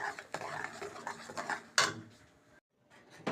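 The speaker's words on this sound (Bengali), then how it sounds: "আর এই টকবক করে ফোটা জলের মধ্যে এখন দিয়ে দেব ব্লেন্ড করে রাখা নারকেল, একটা গোটা নারকেল। ভালো করে নাড়িয়ে মিশিয়ে দিচ্ছি।" Blended whole coconut being stirred into boiling water in a pot: scraping, clinking spoon-on-metal strokes in an irregular rhythm, fairly close, fading to a brief silence before resuming.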